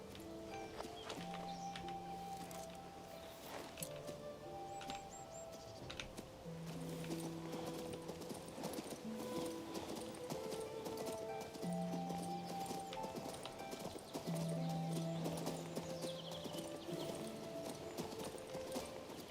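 Horse hooves clip-clop at a walking pace in the King's Bounty II video game, a steady close rhythm over an ambient bed, with a brief whinny.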